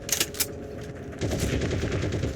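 Gunfire in the online World War II shooter Heroes and Generals: two sharp shots open, then a dense, sustained burst of rapid automatic fire runs loud and steady to the end.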